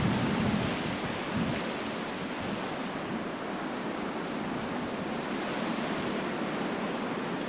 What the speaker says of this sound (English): Then it's back again to typical wet and windy Lancashire weather.